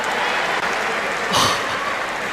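Crowd at a WTT Macao table tennis match between Ding Ning and Chen Xingtong, a broad wash of applause holding steady throughout with a brief louder swell near the middle.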